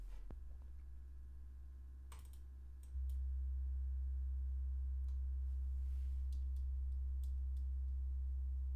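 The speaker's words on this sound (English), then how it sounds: "And then we also have a sine wave." A deep, steady sine wave tone hums continuously, stepping up louder partway through, with a few faint clicks scattered over it.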